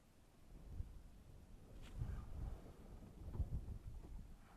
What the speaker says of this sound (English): It's just the wind making noise.